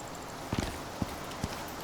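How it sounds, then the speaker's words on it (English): Hooves of a horse in the survival game Icarus clop at an unhurried walking pace, four or five distinct thuds spaced about half a second apart over a faint ambient hiss, with no speech. "There's a horse."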